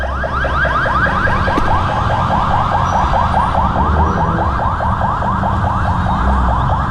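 An ambulance siren wails continuously on a street in Bulacan, loud and close with a rapid rising-and-falling sweep, over steady traffic rumble.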